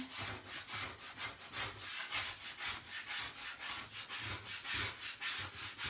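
A board scraper rasps chalk paste off a chalkboard in steady, rapid back-and-forth strokes. The scraping is close and continuous, with a regular rhythm and no talking.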